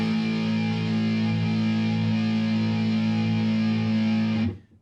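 A single distorted electric guitar note or chord in a punk rhythm style, left to ring out loud and sustained for several seconds before being cut off abruptly.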